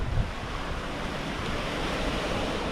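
Ocean waves wash steadily onto the rocky shore of Paradise Beach in Gokarna, a continuous broadband roar of surf with wind buffeting the microphone, loud and close, no voices.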